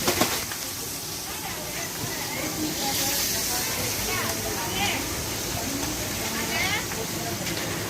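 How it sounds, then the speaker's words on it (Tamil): Kizhangan and paarai fish fry in hot oil in a pan, giving a steady, close, crackling sizzle that hisses continuously with small pops throughout. "கிழங்கா மீனையும் பாறை மீனையும் சூப்பராக வறுக்கிறாங்க"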